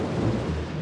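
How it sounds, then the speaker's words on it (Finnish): A low, rolling thunder rumble from a cartoon sound effect, one short, steady burst without voices. "Ukkonen jyrisi."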